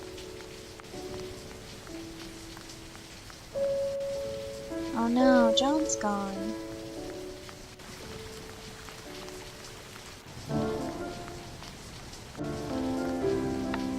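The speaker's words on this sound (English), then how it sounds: "Oh, it's raining. Why is it raining?" Steady rain pattering on surfaces in a video game's town, a constant soft hiss running throughout, with someone talking over it and game music tones rising and falling.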